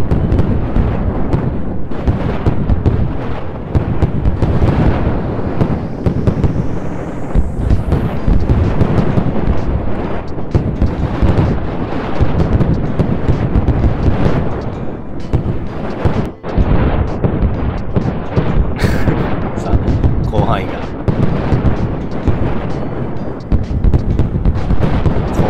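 Rapid chains of TNT blasts in the WorldBox sandbox game go off continuously, dense booming explosions and crackling rumble overlapping for the whole stretch with hardly a pause.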